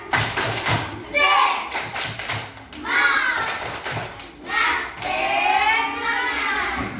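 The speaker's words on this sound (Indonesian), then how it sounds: "Tepuk semangat." Schoolchildren in a classroom do a rhythmic spirit clap, with quick sharp claps at the start and then bursts of chanting voices in a patterned, call-like rhythm.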